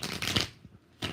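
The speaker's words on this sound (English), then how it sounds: "4 shuffles for Eliza." Tarot cards being shuffled, with quick papery riffling bursts close to the mic, a brief pause, then another short riffle starting.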